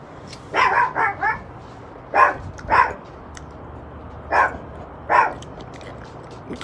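A dog barking nearby in bursts, a quick cluster of three or four barks, then pairs and single barks spaced out over several seconds, loud against a quiet background.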